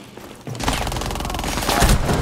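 Rapid, loud gunfire in Rainbow Six Siege during a Plane team deathmatch, a dense burst of shots starting abruptly after a short quiet moment and continuing to the end.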